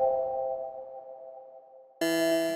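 ElectraX synth one-shot melody with reverb: a sustained tone with an airy reverb tail fades slowly, then a bright, harmonically rich chord hits loudly near the end, with no talking.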